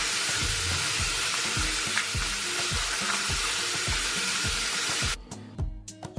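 Grapes are rinsed under running water from a tap, a steady loud rush with repeated rhythmic splashing and tumbling as the fruit is handled, cut short near the end.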